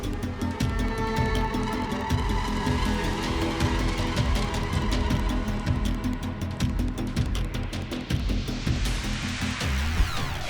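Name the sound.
semi-truck skidding off the highway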